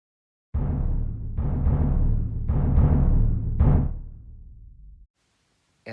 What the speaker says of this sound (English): Here is a deep bass drum that already has a lot of reverb naturally built into it.